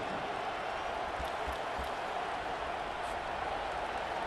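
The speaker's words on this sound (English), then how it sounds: "Here comes this home crowd as the defense tries to get off the field on third down." Home football crowd roaring at a Tennessee game as the defense tries to get off the field on third down; a steady, dense wash of distant cheering and noise runs throughout with no break.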